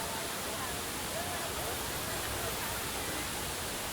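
Athirappilly waterfall in Kerala, a tall multi-tiered river fall, roars as a dense, steady, unbroken rush of water from a distance.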